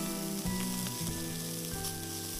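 Carrots sizzle and fry together with chicken in a hot pan, a steady close crackle with soft stirring bumps and no voices over it.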